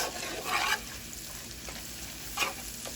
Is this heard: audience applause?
no